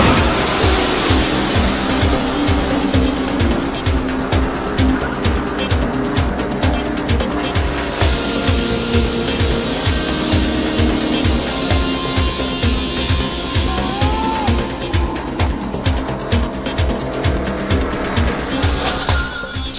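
Race cars roar loudly and continuously at a racetrack, with engine drone, a rhythmic mechanical pulse and tire squeal as a car swerves out of control onto the infield grass and crashes.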